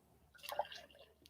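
Irn Bru soda poured into a glass, a brief close liquid splash and trickle with a few fizzy drips, fairly quiet and over in about a second.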